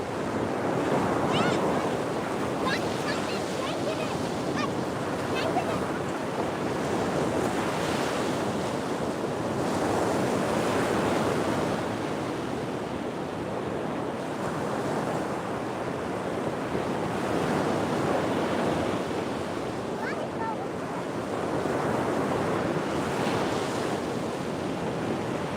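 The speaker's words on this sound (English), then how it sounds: "I'm going to assume it's the waves too." Ocean waves break on a fishing beach with a continuous roar of surf, swelling and easing in slow surges under steady wind buffeting the microphone.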